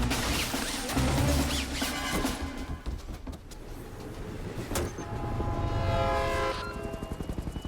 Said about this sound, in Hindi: सर, ट्रेन टनल के अंदर एंटर हो चुकी है।